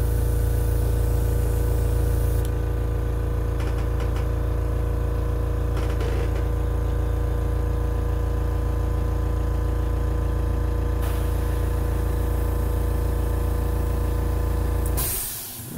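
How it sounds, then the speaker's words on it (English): An air compressor hums with a steady mechanical drone while a fishing lure is spray-painted, briefly louder at first, then running evenly before a sudden change near the end. "I apologize for the air compressor noise."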